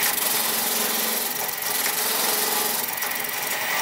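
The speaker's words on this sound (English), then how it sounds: "Now I've got some drum sanders and I'll finish it off with that." A steady, high-pitched whirring and abrasive hiss of a drum sander grinding the inside of a wooden clock part, continuous and close, with slight changes in pressure.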